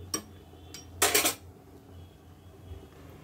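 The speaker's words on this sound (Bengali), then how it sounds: "এখানে আলুও দিয়ে দিলাম আর গরম মশলাটাও দিয়ে দিলাম, দিয়ে একটু নাড়িয়ে দিচ্ছি।" Meat, potatoes and ground garam masala paste being stirred in a cooking pot, with a couple of sharp utensil clinks followed by a brief louder burst of scraping and sizzle, then quiet kitchen background.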